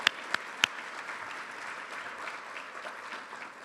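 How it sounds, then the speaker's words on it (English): Moderate applause from an audience at a community event, honoring board members for their leadership; a few sharp claps open it before a steady, fairly soft patter of many hands continues throughout. "give them a quick round of applause?"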